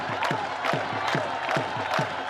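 Crowd at the Pakistan border ceremony cheering and clapping in a steady, rhythmic pattern, with repeated rising shouts roughly every half second over a dense wash of applause.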